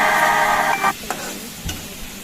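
Cumin, mustard seeds and dried red chilies crackle and sizzle in hot oil, a dense steady fizz for most of the moment that drops off suddenly, leaving a few faint pops and clinks.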